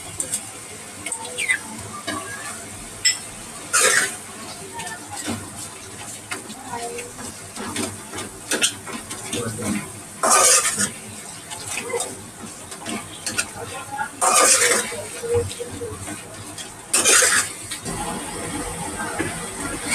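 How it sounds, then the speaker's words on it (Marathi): Onions softened in a pan with ginger-garlic-cumin paste frying, a steady sizzle broken by repeated sharp scraping and stirring bursts over about twenty seconds; light talk is heard at times. "त्याच्यामध्ये मी आलं लसूण आणि जिऱ्याची पेस्ट टाकून घेते।"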